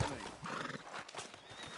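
Horse hooves clip-clop steadily in a Western video game, with a horse whinnying over faint background ambience.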